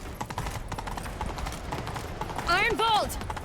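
Rapid galloping horse hoofbeats in The Witcher 3: Wild Hunt pound steadily throughout, with a brief strained vocal cry rising near the end.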